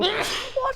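One quick sneeze during a tabletop role-playing game session, close and brief, with a short spoken word right after it.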